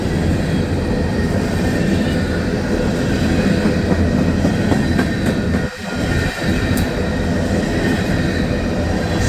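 An empty coal train with a distributed power unit rolls along a siding, a loud steady rumble of wheels and cars passing close by with faint clickety-clack and occasional squeal, no voices.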